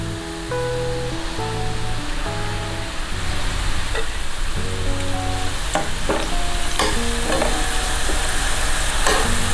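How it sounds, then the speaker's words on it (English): Onions frying in a pan until light brown give a steady, close sizzle with scraping stir strokes throughout and a faint tonal hum underneath. "Now fry these onions till it turns light brown."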